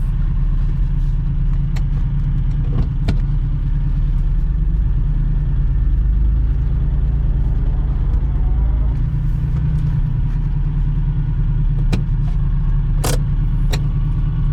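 A low-mileage Ferrari Dino drives along with a steady, deep engine rumble and road noise from inside the cabin. There are faint ticks and clicks over the top, and nobody speaks.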